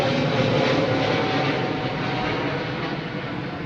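An airliner takes off from runway 09R at London Heathrow with a loud, steady engine roar that fades slightly as it climbs away, with no talk.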